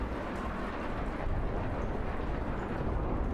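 Thunderstorm ambience in the video game Kentucky Route Zero: dense, steady rumbling roar of rain and distant thunder, continuous and fairly loud with no speech.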